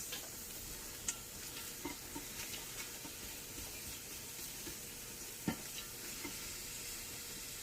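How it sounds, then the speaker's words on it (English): Sliced onions sizzle and pop steadily in hot oil in a pan, a faint continuous frying hiss with scattered small crackles and no talking. "We have our oil heated up. We're going to add our onions to that. And get those sauteing."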